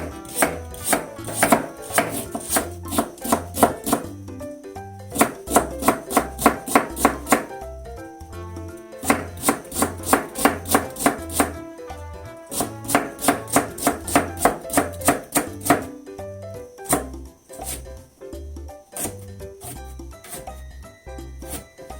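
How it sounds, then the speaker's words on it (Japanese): A knife julienning carrot on a cutting board for a sweet potato kinpira dish, crisp rapid chops in bursts separated by short pauses, close and clear. "人参も千切りします"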